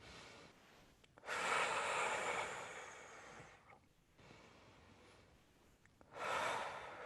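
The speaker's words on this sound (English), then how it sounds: "Keep breathing." Slow, audible breaths during a back care exercise class, two long drawn inhalations or exhalations separated by quieter pauses, close and fairly soft, with no talking.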